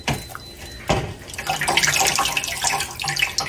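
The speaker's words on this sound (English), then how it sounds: "I'll have to run some water over it, I guess" Tap water runs steadily over a frozen turkey carcass in a kitchen sink, a broad close splashing rush that swells after a sharp knock and continues without talk.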